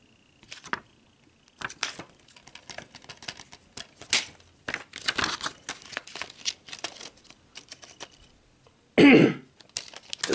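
A man clears his throat once, a brief, loud, close rasp near the end, after a stretch of quiet handling noises: plastic DVD cases clicking, tapping and rustling during an unboxing of a Tales From The Crypt complete series set.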